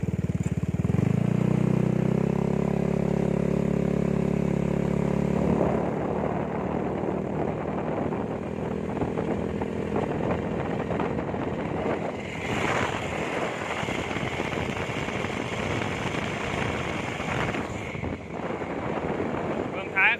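A modified Yamaha Mio scooter idles with a steady drone, then is ridden off, its engine note rising and wavering as it pulls away amid wind buffeting on the microphone; loud and close throughout.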